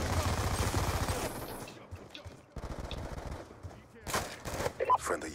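Automatic gunfire and bursts of shots in a Call of Duty Black Ops 2 team deathmatch match, loud and dense at first, then sporadic volleys and impacts under game effects and someone talking.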